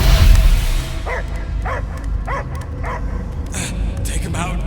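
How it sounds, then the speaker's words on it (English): A dog barks in the Guardians of the Galaxy video game, a run of evenly spaced yelps and barks over a low rumbling background, with voices speaking around them. "I hear only barking."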